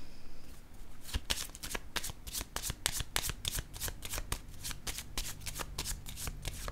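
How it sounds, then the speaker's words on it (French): A deck of tarot cards is riffled and shuffled close up in rapid, crisp bursts of flicking cards, fairly quiet, with no speech. "je vais piger une autre carte"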